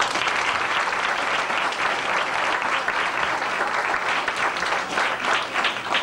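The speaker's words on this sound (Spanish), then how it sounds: "Yo quiero pedir un aplauso para él." Sustained applause from an audience at a public event in Pedernales marking the first traffic light, steady and dense throughout with no break.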